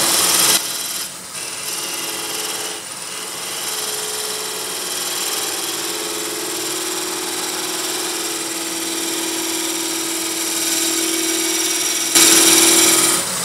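A scraping tool cuts wood on a spinning lathe, giving a continuous loud hissing, rasping whine with a steady motor tone beneath, briefly dipping near the start before running on evenly.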